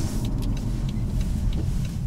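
A BMW drives along the roads of the Le Mans circuit near Mulsanne, its engine giving a steady mid-level hum with road and wind noise, heard from inside the car at an even pace.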